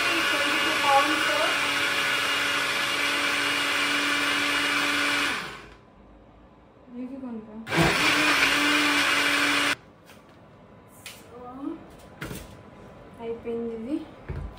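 A kitchen blender, a recent purchase costing 22 pounds and supplied with cups, whirs loudly and steadily for about five seconds, stops, then gives a second short burst, with quieter handling noises and clicks in between.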